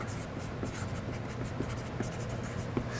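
Marker or chalk strokes scratching across a board during a Korean Buddhist studies lecture, a steady run of short writing scrapes with a few sharper taps, close and fairly quiet.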